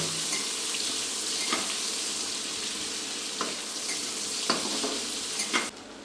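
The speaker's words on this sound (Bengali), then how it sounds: "পেঁয়াজটি খুব লালচে করে একটু ভেজে নেব" Chopped onions frying in a pan with cinnamon for a Bengali chicken curry, a steady soft sizzle with a few sharp clinks of stirring, no voices.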